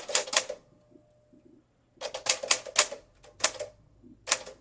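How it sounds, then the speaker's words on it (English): Typing on a 1953 Smith Corona Sterling typewriter, quick bursts of sharp key strikes in uneven clusters with short pauses between, close and crisp. "1953 Smith Corona typewriter"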